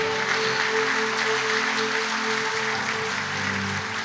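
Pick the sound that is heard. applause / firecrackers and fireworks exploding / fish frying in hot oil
applause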